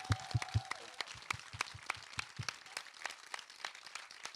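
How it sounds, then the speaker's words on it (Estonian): Audience at a hairdressers' conference applauding, a dense burst of clapping that gradually thins out. "Teeme Kertile kõik ühe suure aplausi."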